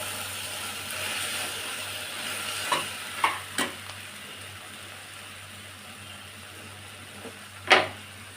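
Tomato and coriander chutney is stirred in a pan with a soft, steady sizzle underneath and a few distinct scrapes of the spoon against the pan, close but quiet.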